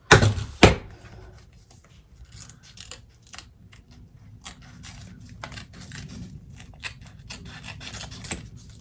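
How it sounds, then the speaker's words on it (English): Applique scissors snip around a rose shape cut from fabric in a run of short, crisp cuts close by, quieter rustling between the snips. "we're going to take our applique scissors and we're going to cut all the way around this rose"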